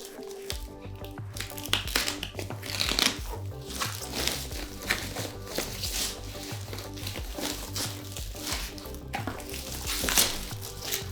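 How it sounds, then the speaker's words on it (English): A new Cricut cutting machine is unwrapped from its plastic packaging, producing irregular close crinkling, rustling and crackling bursts that run throughout, with no voices. "let's unwrap this Cricut and take a look"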